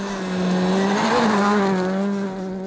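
Hankook-shod Ford Fiesta rally cars roar past at a rally stage, engine pitch rising and falling with a screech of skidding tyres, loud and close.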